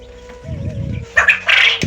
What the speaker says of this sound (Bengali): আর এখন কোয়েল পাখিগুলো কীভাবে ডাকতেছে আপনারা একটু শোনেন।